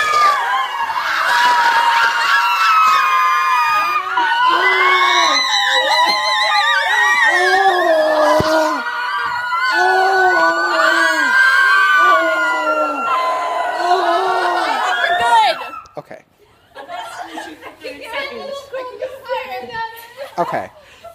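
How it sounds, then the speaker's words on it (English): A group of people screeching together in varying pitches, a loud and continuous mass of high wavering howls and squeals that cuts off abruptly, leaving quieter scattered voices and chatter behind. "now we're going to screech for 30 seconds in varying pitches"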